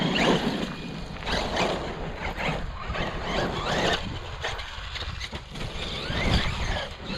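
A Traxxas E-Revo 2.0 RC car bashing around a gravel pit at midday, its electric motor whining and tires crunching loose gravel in continuous bursts, fairly close, with no talk.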